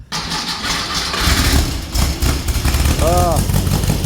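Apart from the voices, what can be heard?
Volkswagen Karmann Ghia Baja engine starting and idling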